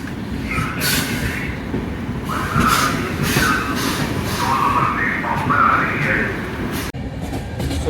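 A passenger train running on the rails on the way from Kolkata to Varanasi gives a steady, loud rumble throughout, with brief rattles and one sharp knock near the end, and no talk over it.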